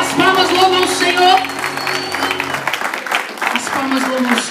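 A church congregation claps in praise during a service, steady applause running beneath a loud voice and music, with sustained tones and the crowd's clapping thick throughout.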